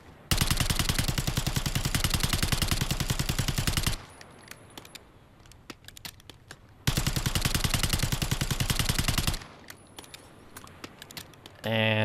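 PP919 submachine gun in Black Ops 6, fired in two long rapid-fire bursts of about four and three seconds, loud and close, with quieter handling clicks and rattles between them.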